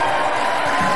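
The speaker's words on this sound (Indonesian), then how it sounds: "tepuk tangan dulu buat bertiga" A television studio audience claps and cheers for three guests on a talk show, a loud, dense burst of crowd noise lasting about a second.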